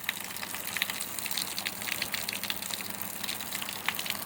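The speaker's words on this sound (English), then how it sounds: "And you'll see water start coming out of those." Continuous hissing spray of water from irrigation nozzles with scattered crackling droplets, steady and moderately loud, no voices.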